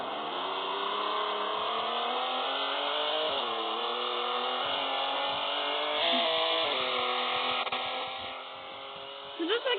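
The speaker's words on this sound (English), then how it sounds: "let's get this Chevy on the road" A Chevy fitted with race tires drives in the Car Dealership Tycoon video game, its engine giving a steady droning buzz that holds level throughout, with a brief lift and a dip near the end.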